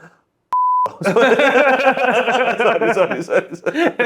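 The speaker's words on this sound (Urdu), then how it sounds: "یہ تو بیپ لگ جائے گا" A censor beep cuts into a cricket talk show as a single short, pure tone, followed by someone speaking and chuckling close to the microphone.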